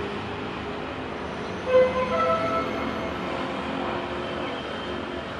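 A train rolls into Bang Sue station in Bangkok after a crew change, giving a steady, moderately loud rumble of rail and wagon noise with a brief louder swell partway through.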